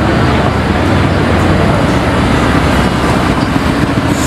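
Mercedes-AMG GT R Roadster driving past at a car meet, a loud, dense rumble of engine and road noise filling the short stretch without a break.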